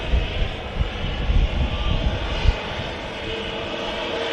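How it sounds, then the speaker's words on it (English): A heavy Air Canada Dreamliner jet at Manchester Airport gives a steady, loud broadband engine roar with rumbling low-end surges. The roar holds throughout with no voices. "that aircraft's followed by another heavy in the form of the Air Canada Dreamliner"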